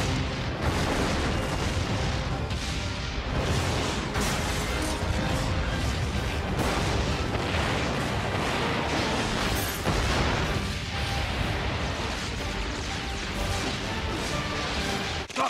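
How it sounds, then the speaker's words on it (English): Explosions from a Batman movie trailer: a dense, continuous wall of loud blasts and crashing debris, heavily mixed with music and effects, running without pause throughout. "Gotham City exploding."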